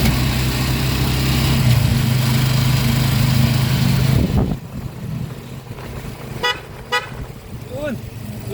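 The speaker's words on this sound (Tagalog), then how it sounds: "Yun! Yun ang mga busina!" Vehicle horns honk in traffic: a loud engine rumble fills the first half, then several short horn toots sound after it drops away, with speech nearby.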